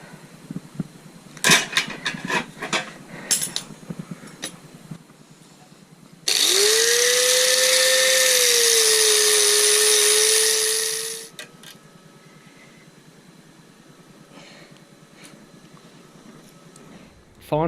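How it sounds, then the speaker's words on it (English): An angle grinder whines loudly for about five seconds as it strips paint from a metal sissybar part for an XVS650 motorcycle project, steady and close, preceded by clattering handling noises and short spoken remarks. "Next thing is to ultimately just grind the paint off this so that I can weld this on."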